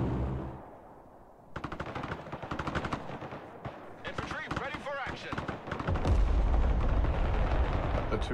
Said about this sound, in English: They're pushing with artillery in the left side